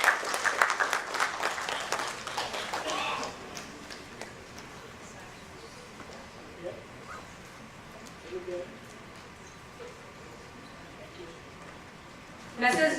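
Applause at a World Standards Day ceremony in a hall: a burst of clapping for about three seconds that quickly dies away into a quiet room, with a few faint scattered sounds afterward.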